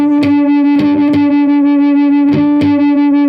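Two guitar harmonics ring together and pulse with a wavering, wobbling beat as slightly mismatched pitches clash, with a few light plucks along the way.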